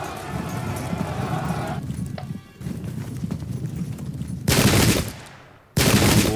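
Gunfire in a Pike and Shot battle game, Custer's Last Stand scenario: dense crackling musket volleys mixed with clattering hooves and horse noise, two loud bursts near the end separated by a brief drop.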